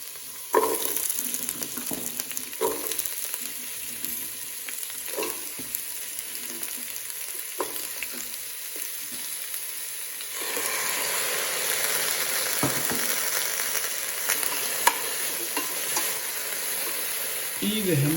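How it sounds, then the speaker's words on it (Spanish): Vegetables frying in hot oil for a dark stock, a steady close sizzle and crackle throughout that grows louder and denser partway through, with occasional stirring scrapes. "Una vez nuestro aceite esté caliente, añadimos nuestros vegetales."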